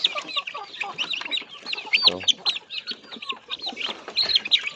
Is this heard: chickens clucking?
yes